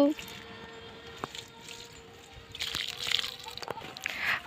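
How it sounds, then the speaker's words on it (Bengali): Water sloshes and splashes onto the soil around a newly planted tree as a grandfather waters it, the pouring swelling louder in the latter half beneath a person talking throughout. "এখন গাছটাকে জল দিচ্ছে আমার দাদু।"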